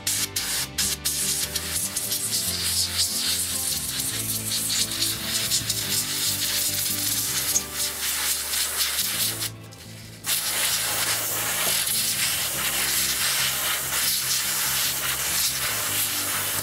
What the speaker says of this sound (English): So now I'm going to give it a bit of a go over with the spray